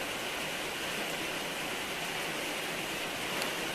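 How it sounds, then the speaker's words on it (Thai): Steady rain pours down outdoors on rice fields, an even, dense hiss with no breaks and no voices. "บรรยากาศฝนตกทุ่งนาลุงพลนะคะ"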